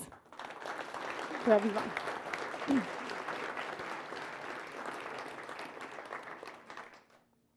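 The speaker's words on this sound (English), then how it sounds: "So let's give a big round of applause" Audience applause fills a conference keynote hall, a steady wash of many hands clapping for several seconds before fading out, with a few faint voices mixed in.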